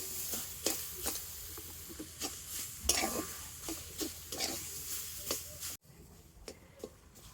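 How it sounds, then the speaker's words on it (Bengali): Boiled, hand-mashed potato is stirred into a cooking mixture in a pan, with repeated scraping and stirring strokes at a steady rhythm over a faint sizzle, heard close up. "তো সিদ্ধ আলুটা দিয়ে সব কিছু ভালো করে মিশিয়ে নেব।"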